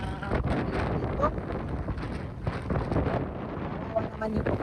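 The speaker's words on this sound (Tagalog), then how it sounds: "Lalakas ng alon, malamig pa. Mahangin." Strong cold wind buffeting the microphone on a rocky seashore with rough waves, a continuous rushing roar; a voice speaks under the gusts.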